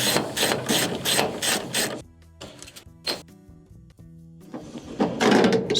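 A ratchet clicks rapidly in quick bursts while loosening the blower wheel of a Maytag dryer. A few single clicks and brief pauses follow, then another fast run of clicking, all close and loud.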